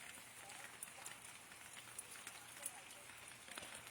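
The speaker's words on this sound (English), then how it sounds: "We'd get rains like this." Light rain falling in cool autumn weather, a faint, steady hiss of drops pattering on surfaces, continuous and distant with occasional small ticks.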